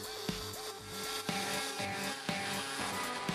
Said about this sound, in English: Turn on the shop vac, turn on your Renovator,